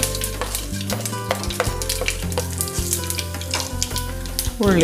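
Fenugreek seeds crackle and sizzle steadily in hot oil, a continuous frying hiss over a bed of background music.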